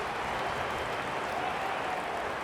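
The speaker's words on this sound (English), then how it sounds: "The crowd already making plenty of noise as the captains come together" A stadium crowd roars steadily at an Australian football match between Port Power and Geelong as the captains meet before the game, a dense, continuous wash of cheering and applause with no breaks.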